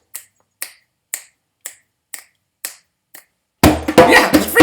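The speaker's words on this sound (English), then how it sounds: "It's time to snap your fingers." Fingers snap seven times at a steady, evenly spaced rhythm, each sharp and close, followed by a burst of loud, broadband noise from a lively family storytelling gathering.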